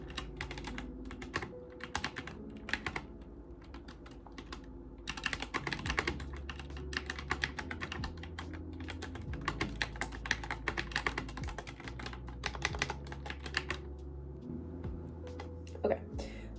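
Keyboard typing while writing, rapid irregular bursts of clicking keys up close, pausing briefly then resuming steadily over a low, steady background hum.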